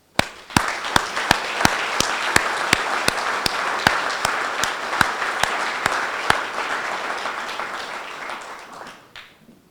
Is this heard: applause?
yes